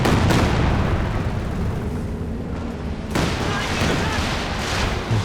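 A Stuka rocket artillery barrage in Company of Heroes 2, loud booming blasts and rumbling explosions that swell, dip briefly, then surge again with a fresh impact, thick with battle noise.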